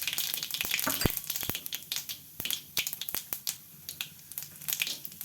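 Cumin seeds dropped into hot oil in a kadai, crackling and popping in quick, sharp bursts close up, the sizzle fairly quiet and uneven with no talking.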